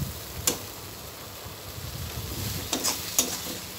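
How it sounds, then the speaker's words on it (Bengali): Onion paste, ground pointed-gourd seeds, turmeric and salt being stir-fried in a pan, a soft steady sizzle broken by a few sharp clinks and scrapes of a spatula against the metal. "হলুদ, লবণ দিয়ে মশলাটাকে কষিয়ে নেব।"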